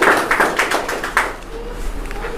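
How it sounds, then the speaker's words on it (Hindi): A church congregation claps for the worship team, a short burst of scattered applause that fades after about a second and a half, fairly close and loud. "तो क्यों ना हम वर्शिप टीम के लिए धन्यवाद, ताली बजा के।"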